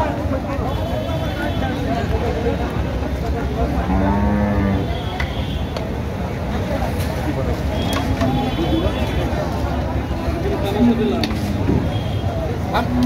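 Shahiwal bulls and other cattle at a livestock market moo repeatedly, several low drawn-out calls rising over a steady crowd hubbub and background chatter.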